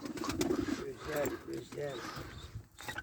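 Pigeons coo in a loft holding a newly bought flock of about 220 birds, soft repeated throaty coos close by with someone talking over them.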